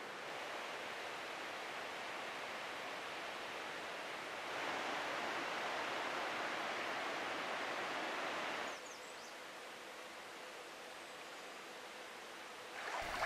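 Flowing water of the Fishdam River in Michigan's Upper Peninsula, a steady broadband rush that swells a little louder midway then settles, continuous and unbroken, no voices.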